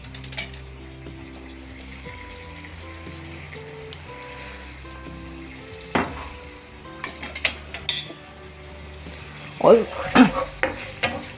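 Soya chilli with dark soy sauce and white vinegar frying in a pan: a low sizzle with a faint hum, then a run of sharp spoon-on-pan clinks and scrapes as it is stirred, with a brief spoken word.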